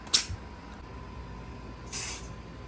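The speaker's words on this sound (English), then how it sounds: "I'm actually gonna be using canned smoke because I got a new can" Two short hissing bursts of canned smoke aerosol sprayed into a smoke detector, the first sharp and brief, the second a longer steady spray, close and clear over a quiet background hum.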